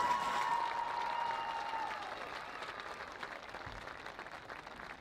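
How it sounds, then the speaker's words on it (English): Crowd applause during a ceremony at a varsity football game, a broad wash of clapping from stands heard at a distance, gradually fading over a few seconds. "Let's have a big round of applause for all of our cancer nominees this evening."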